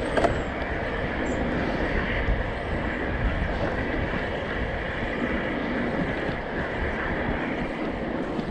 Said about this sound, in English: You could probably hear it blowing past the camera.